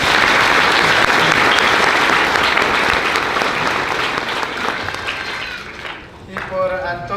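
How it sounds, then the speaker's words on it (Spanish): A church congregation at a Lenten Sunday Mass breaks into loud, sustained applause for a parishioner's recent birthday, a dense roar of many hands that fades slightly near the end as voices begin to rise. "Aplausos, por favor"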